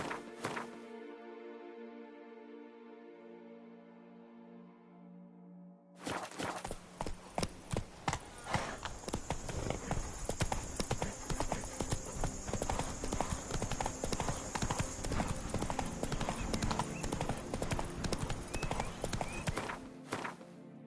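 Horse hooves gallop in the video game The Witcher 3: Wild Hunt, a fast, steady clip-clop rhythm that starts abruptly after a sustained musical tone and continues loudly to the end.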